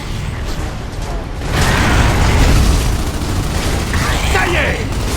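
A grenade explodes in the video game Gears of War 3, a loud booming blast that follows a steady din of battle noise, with a voice audible beneath it.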